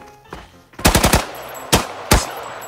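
A mobile first-person shooter weapon fires with sharp, loud reports: one lone shot, a rapid burst of about four, then two more spaced single shots, with no talking.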